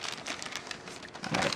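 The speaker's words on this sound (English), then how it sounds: "I'm going to peel back this paper" Quiet crinkling and crackling of paper being pulled and peeled back from peach pie crust dough, soft rustles with a slightly louder crinkle at the end.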